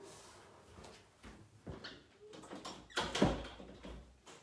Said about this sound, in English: Hang on, I'm going to close this door again